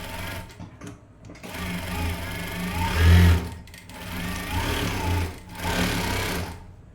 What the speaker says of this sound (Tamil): தையல் போட்டுக்கலாம்.